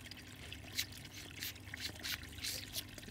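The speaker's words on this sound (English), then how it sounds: "You can hear him sucking up the air." A Disney Pixar Cars squeeze bath toy draws in water and air, giving faint, close gurgling trickles and bubbly sucking bursts in an irregular rhythm.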